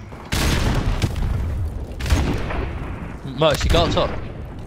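A grenade blast in Modern Warfare Remastered on the Backlot map, a loud booming explosion followed by further rumbling blasts, with a player's voice talking over the game audio.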